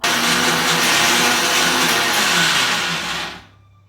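A mixer grinder whirs loudly and steadily as it blends tomato and coriander chutney close by, then winds down and stops just before the end.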